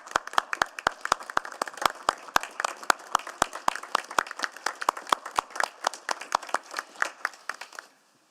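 Sustained applause from a city council meeting audience welcoming guests, many hands clapping steadily and closely for about eight seconds before stopping abruptly.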